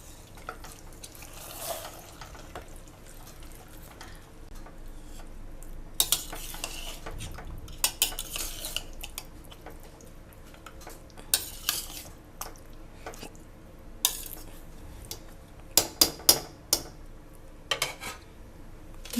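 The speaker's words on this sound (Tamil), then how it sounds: "தயிர் 400 கிராம் அளவுக்கு ஊற்றிக்கணும்." Yogurt poured into mutton dum biryani and stirred in a pot, with quiet scraping and intermittent sharp clinks of a spoon against the vessel over a low background hum.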